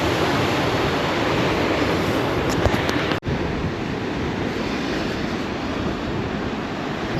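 Ocean waves wash continuously along a coast, a broad steady roar of surf heard close with a brief dropout midway, no voices.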